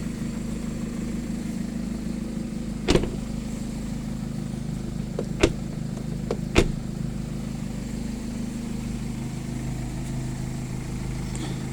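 A car engine idles with a steady low hum after a jump start, with a few sharp clicks or knocks breaking in near the start and middle.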